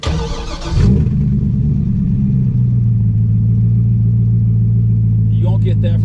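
500hp LS7-powered Z06 with a 427 V8 starts, then revs and accelerates hard into donuts, a loud steady engine roar close by, with a brief higher whine near the end.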